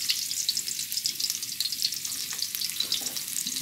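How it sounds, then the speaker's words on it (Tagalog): Chicken sautéing in hot oil in a pan, a loud continuous sizzle and crackle broken by stirring, close up and with no voices. "Kailangan po sa pagluluto po ng manok, isasangkutsa po natin, ano, para po lumabas po yung kanyang mantika."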